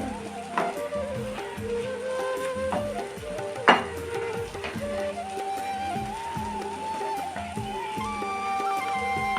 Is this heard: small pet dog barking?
no